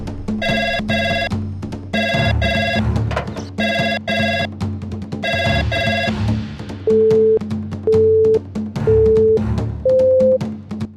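A telephone rings in repeated bursts of electronic trills that go unanswered, followed by a few single steady tones, loud and close with no voices.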